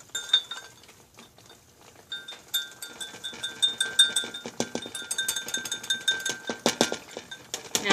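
Chocolate chips being stirred into a mixture in a bowl for a paleo chocolate ganache dessert, giving a steady run of close, light clinks and scrapes against the bowl that grow busier partway through, with no talking.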